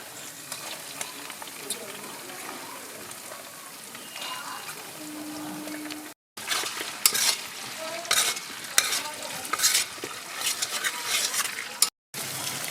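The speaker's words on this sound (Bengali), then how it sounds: "রসুনটা বাদামি কালার হয়ে গেছে আমি এবার দিয়ে দেবো পেঁয়াজ কুচিটা" Chopped onion added to hot oil with browned garlic for a chilli baby corn dish, producing a close sizzle with repeated stirring scrapes that intensify after a brief cut, then brisk frying under occasional utensil knocks.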